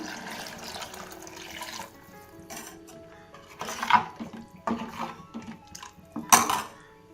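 Lentil cooking water splashes and pours into a pot of tomato rasam in uneven bursts, with occasional clinks of metal cookware nearby.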